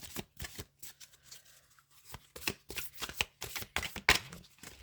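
Tarot cards shuffled by hand in quick, repeated riffling bursts, with soft snaps as cards are drawn and laid down, close and clear with no talking.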